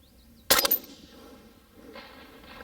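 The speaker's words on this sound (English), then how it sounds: "I'm shooting the Lehigh Defense 72 grain controlled chaos bullets powered by Hodgin Powder IMR 8208 XBR." A rifle firing Lehigh Defense 72 grain controlled chaos bullets loaded with IMR 8208 XBR powder cracks once, sharp and loud, followed by a rapid rattling echo that fades.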